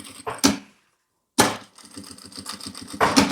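Sewing machine stitching a safety seam on a multipurpose case, short bursts of rapid mechanical stitching separated by a brief silence, close and moderately loud, with no talk.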